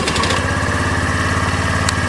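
A small Honda Navi mini motorcycle engine starts and idles loud and close, a fast even putter that stays steady the whole time.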